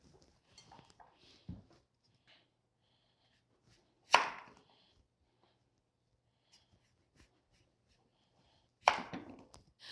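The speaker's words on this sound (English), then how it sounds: "and cut them into cubes" Knife chopping rutabaga into cubes on a cutting board, a few sparse sharp knocks spaced seconds apart with quiet gaps between, close and clear.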